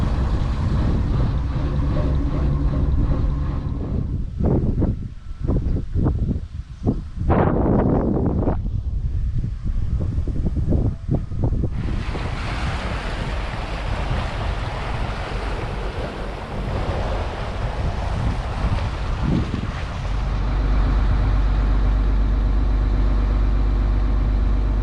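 A Dutch barge motors along a canal with its mast up, rounding a corner toward a lift bridge: a steady low engine drone under gusty wind and water wash, continuous and close.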